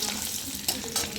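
Chopped ginger and garlic hitting hot oil in a wok, a soft continuous sizzle with a few brief stirring scrapes, close but fairly quiet and with no voices.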